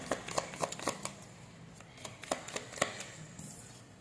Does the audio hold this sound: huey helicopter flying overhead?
no